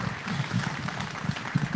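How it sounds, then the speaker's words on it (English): An audience at a roast event gives Ben a round of applause, a brief, steady patter of clapping with a few louder claps, close and moderately loud. "So one more round of applause for Ben here as well."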